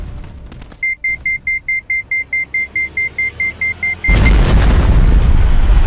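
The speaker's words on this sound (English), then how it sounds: "the building exploded in a massive fireball that lit up the desert sky" A building explodes in a massive fireball in the desert, a sudden loud, sustained roaring burst that cuts in after a run of rapid, evenly spaced electronic alarm beeps.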